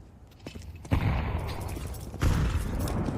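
Grenades go off in a competitive Counter-Strike match: two sharp, heavy blasts about a second apart rise out of a low game rumble, each followed by a lingering crackle.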